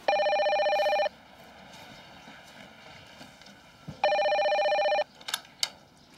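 Telephone ringing in a drama scene: two electronic rings about a second long, separated by a three-second gap, with faint room noise and small clicks between them.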